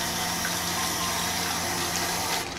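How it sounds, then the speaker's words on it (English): Steady water gushing from an opened faucet in Brink of Consciousness: Dorian Gray Syndrome, a continuous close hissing splash that runs evenly and fades at the end. "Wow, that was realistic water."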